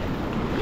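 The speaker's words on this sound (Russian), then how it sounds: "Вот посмотрите, какие здесь сильные волны," Strong ocean waves breaking on a reef in Sri Lanka, a loud continuous roar of surf with a heavy low rumble and wind buffeting the microphone, close and with no voices.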